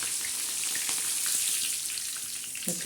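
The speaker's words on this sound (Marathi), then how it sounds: "आपल्या लाल अशा मिरच्या तळत आहेत" Red chillies frying in hot oil for topping brinjal fritters, a dense, even crackling sizzle heard up close and continuing throughout, ending with a brief clatter.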